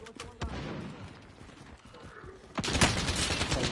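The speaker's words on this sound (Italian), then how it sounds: "Stanno sparando!" Rapid bursts of gunfire in the video game Warzone, crackling in dense volleys that grow louder and heavier toward the end, with a faint voice underneath.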